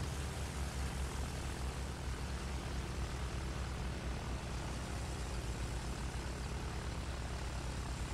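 A World War I bomber's engine and propeller in Battlefield 1 drone continuously, a loud, even, rumbling roar with no pauses or talk.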